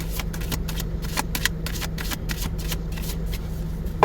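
A deck of tarot cards is shuffled by hand in quick riffling bursts, a crisp papery flutter repeating in a steady rhythm, close and fairly quiet with a faint hum behind.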